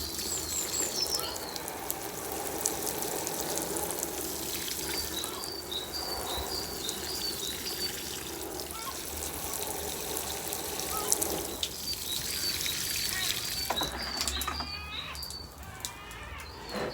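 Rainwater poured over three potted Acer Palmatum Katsura pre-bonsai trees to soak them, a steady trickling and splashing that runs throughout, with outdoor crickets or insects chirping in the background.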